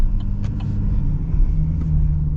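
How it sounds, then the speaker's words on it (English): Deep Duramax diesel engine rumble of a 2025 Chevy Silverado Trail Boss pickup, with a steady low drone and faint turbo whistle riding on top, continuous and close for a couple of seconds. "can you hear the turbo?"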